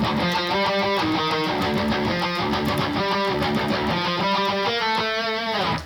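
A heavily distorted third guitar part from a song plays harmonized diatonic thirds, loud and continuous with a fast chugging rhythm, no voices.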